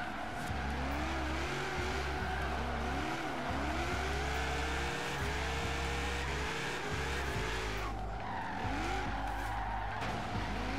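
Engine revving and tires skidding with a squeal as a car brakes hard and slides around a parking lot in Forza Horizon 3, loud and continuous, with the drone rising and falling through gear changes.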